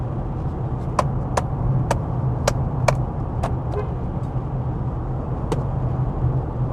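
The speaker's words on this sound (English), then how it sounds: "I have to listen to that rattling." A Toyota Mirai hydrogen car has something rattling inside its dashboard while driving. Sharp, isolated clicks repeat roughly every half second and later grow sparser, sitting over a steady low road and cabin rumble.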